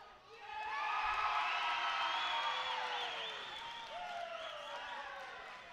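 Wrestling crowd at an SFCW independent show cheering, whooping and applauding for two wrestlers; a dense, sustained roar with shouts and whistles rising near the start and holding steady throughout.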